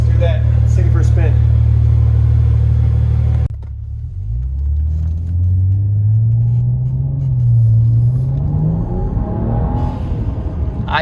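A BMW with a Bootmod3 stage 2 tune idles with a deep loud rumble, then pulls away and the engine note climbs steadily through the revs as it accelerates, close and prominent.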